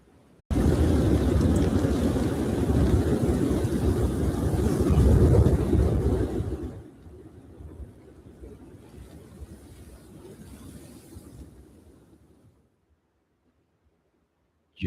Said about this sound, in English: the southern states must really suck because it's windy up here